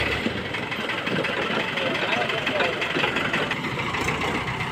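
A JCB backhoe loader idles on a farm field. Its engine gives a continuous, even rumble at steady loudness, with no revving, throughout the moment.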